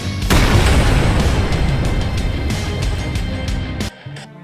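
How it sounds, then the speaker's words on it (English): Barrels blow up in a video game, a loud broadband boom at the start that rumbles on for several seconds, with crackling bursts scattered through it before it cuts off abruptly near the end. "Stop the fire or the barrels will explode."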